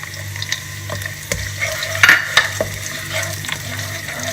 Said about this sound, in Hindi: प्याज़ों को कर लेंगे इसमें फ्राई